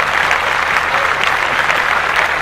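Steady, dense clapping from a group, even in level and unbroken across the whole stretch, with no voices over it.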